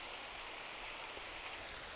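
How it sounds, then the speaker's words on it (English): A steady, broadband rush of a waterfall stream forking down the hillside near Brotherswater in the Lake District, continuous and fairly close, with no voices. "the water's just sort of forking its way down"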